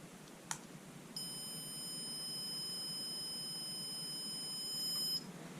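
Steady electronic beep from a small speaker on a stopwatch project board, one sustained high-pitched tone lasting about four seconds over faint background hiss, with a brief click just before.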